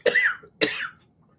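A person coughs twice, close and fairly loud, with a short pause between the two harsh bursts in an otherwise quiet room.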